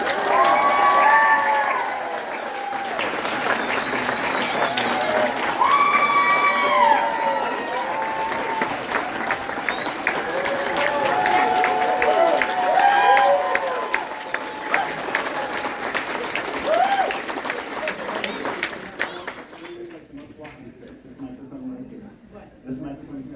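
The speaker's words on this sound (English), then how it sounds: "please stand and get a round of applause to Miss Barbara Eden" An audience at a Barbara Eden panel at Lexington Comic Con 2024 stands for loud, sustained applause with cheers and whoops, tapering off after about twenty seconds.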